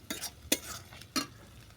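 Snakehead fish being mixed into a fried sesame paste in a pan: three short scraping stirs land at roughly half-second intervals, close and fairly quiet, with no speech.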